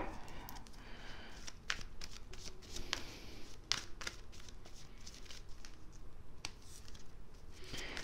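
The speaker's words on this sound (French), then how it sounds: "je vais vous tirer quelques cartes de l'oracle Angel Answer" Angel Answer oracle cards being shuffled and drawn, giving a soft, steady run of papery riffles, flicks and light taps at close range, with occasional sharper card snaps and no talking.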